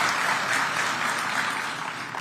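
Steady, full audience applause at a gathering in Addis Ababa, sustained and even throughout with no speech over it.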